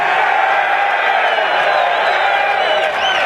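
Large outdoor rally crowd in Albany, New York, cheering and clapping in a loud, continuous roar with scattered whoops, sustained without a break.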